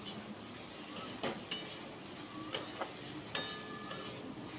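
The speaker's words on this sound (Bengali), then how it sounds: "আর এবার আলুগুলোকে দিয়ে কষিয়ে নেব প্রথমে" Potatoes sauté in a pan. There is a quiet sizzle with a few sharp spoon clicks and scrapes against the pan, and no voices.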